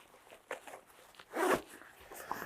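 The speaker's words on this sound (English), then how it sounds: "So open up that zipper." The zipper on a MARVN backpack is pulled open in a few short rasping strokes, close and fairly quiet, ending with one longer, louder zip.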